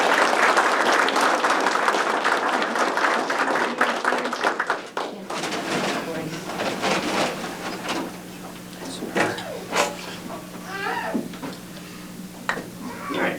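A school board meeting audience applauds Skills USA medalists, loud dense clapping for about five seconds that then thins into scattered claps under murmuring voices and movement.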